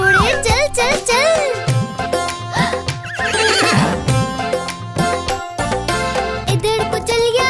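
A children's song about a horse carries neighing and whinnying over a busy musical backing, with clip-clop hoof beats woven through the bouncy rhythm; the horse sounds stay loud and continuous throughout.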